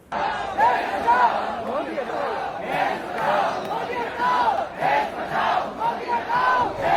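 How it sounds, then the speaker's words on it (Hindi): A large protest crowd at Jantar Mantar in Delhi chants a political slogan in unison, repeated rhythmic shouted bursts rising and falling every second or so, loud and close, with chatter between the chants. "लगातार एक ही नारा लग रहा है, सभी एक ही नारा लगा रहे हैं साथ में कि मोदी हटाओ देश बचाओ"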